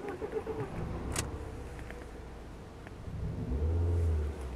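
Alfa Romeo 156 2.0 Twin Spark petrol engine cranking and catching, settling into a low steady idle rumble close by, with a brief click near the start and a swell of revs toward the end.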